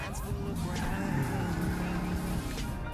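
A car driving in first person in the video game Grand Theft Auto V, a steady engine drone with shifting pitch and some tire noise, continuous and close.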